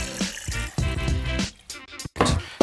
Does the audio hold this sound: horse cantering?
no